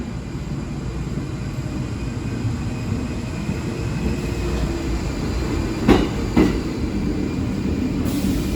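Subway train rumbling steadily through a New York station, a continuous low roar of wheels and rail noise with two brief sharp metallic squeals or clanks midway, no talk.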